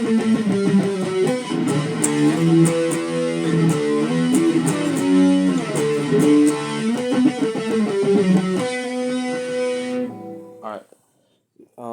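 An electric guitar plays the first bridge of a song, mostly palm muted, in a steady rhythmic run of notes. It rings out clearly and close, then fades out near the end.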